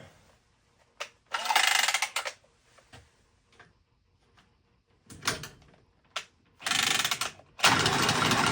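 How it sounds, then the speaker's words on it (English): An automatic pipe cutter works on old pipe during a ductless mini-split install, giving short bursts of loud ratcheting and grinding separated by pauses, with quieter clicks in between. "I like to use my cutter. My automatic cutter."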